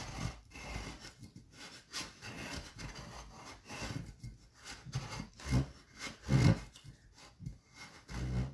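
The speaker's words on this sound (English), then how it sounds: "You can hear the difference when it's cutting fabric versus when it's touching the tumbler." Blade scraping and cutting through fabric on a tumbler, a faint, close rasping with uneven strokes and a few louder scrapes, heard alone.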